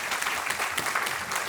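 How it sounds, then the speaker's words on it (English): Audience applause at an opening-remarks event in Galveston, a short burst of dense, steady clapping from a room full of people. "y'all give him a big round of applause"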